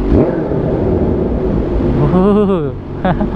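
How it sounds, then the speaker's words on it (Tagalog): A nearby Kawasaki Ninja H2 motorcycle engine revs up, rising and falling in pitch over a steady low rumble, with a voice speaking partly over it. "Ganda ng tunog ng motor dito."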